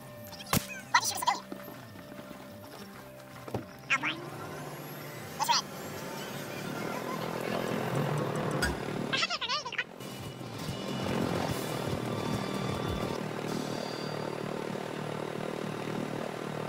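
A video game helicopter's rotor and engine drone steadily, building and continuing throughout, with a few sharp clicks and bursts early on.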